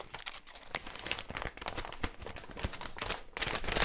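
A torn plastic bag crinkles and rustles as it is handled, with irregular crisp crackles and sharper bursts throughout, close to the ear and with no talking.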